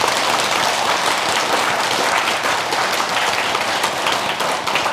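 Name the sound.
audience applause for monks at a temple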